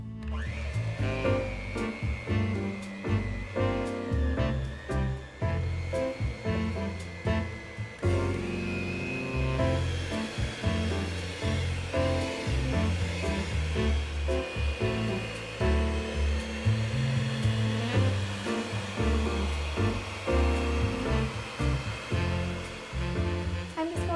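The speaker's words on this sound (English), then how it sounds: "we can blitz this together for 2 minutes" A blender whirs continuously for a long stretch, blitzing cherries, flour and wet ingredients into 1950s maraschino cherry cake batter, a loud, close motor drone with shifting churning tones and no talk.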